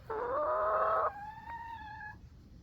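A chicken gives a loud, drawn-out squawk followed by a fainter, higher trailing call, close by in a quiet outdoor setting after a nor'easter storm.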